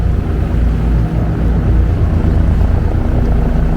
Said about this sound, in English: Here comes the helicopters that was hovering on the ship before.